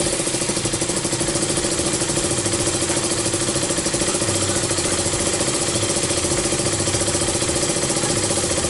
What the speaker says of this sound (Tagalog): So ayan, umandar yung motor.